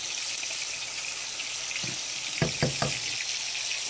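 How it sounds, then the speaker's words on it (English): Water runs steadily into a cooking pot of green beans, a soft continuous pour under a faint hiss, with a few brief splashy clunks near the end. "Today I'm going to add just water to my green beans."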